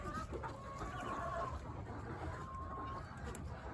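Brahma chickens cluck softly at moderate distance in a farmyard, a scattered chorus of low murmuring calls over a steady background.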